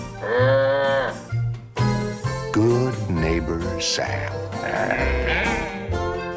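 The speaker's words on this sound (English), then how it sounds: "Who do sophisticated sheep baa for?" Sheep bleating in a 1964 comedy film trailer, loud and repeated over brassy, jaunty music and sung voices, with bursts alternating with the tune.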